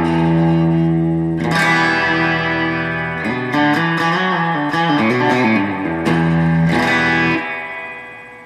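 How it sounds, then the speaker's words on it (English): Electric guitar played through the Gerlitz Revelator amp with its long Fender-style spring reverb tank, ringing chords and picked notes that splash and trail off, loud and close with no talking. "The Fender reverb tank is a lot longer and has the splashy reverb sound that you're familiar with your Blackface Fenders."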